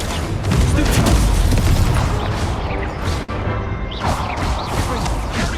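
Incendio fire spell cast in the Hogwarts Legacy video game: a loud, sustained roaring whoosh of flame with rumbling booms, briefly cut off before surging again, filling the whole clip.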